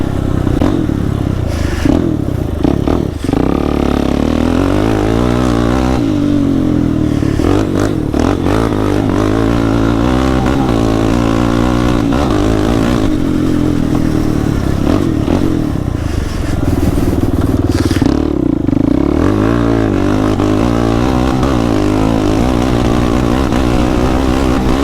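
A Suzuki LTZ 400 ATV engine revs hard at high RPM and breaks up, a loud, close, continuous roar with wavering pitch and rough stuttering across the whole stretch.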